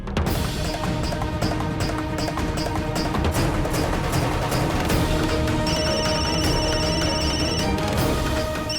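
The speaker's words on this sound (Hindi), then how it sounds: "रिंग तो बज रही है" A telephone rings repeatedly in a steady pattern over a dense, busy background, with a sustained electronic tone joining partway through.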